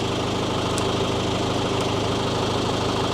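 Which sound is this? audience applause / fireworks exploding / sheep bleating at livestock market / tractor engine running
tractor engine running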